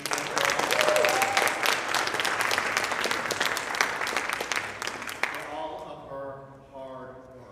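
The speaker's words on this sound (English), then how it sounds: "Please give a round of applause for Debbie." Audience applause at a Sunday church service fills the room with steady, dense clapping for about five seconds before it thins out and stops, leaving a quieter stretch at the end.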